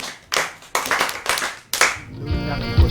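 At a children's storytelling gathering, people clap for a boy: about five sharp, separate claps in quick succession, close and clear, followed by a brief lower-pitched sound.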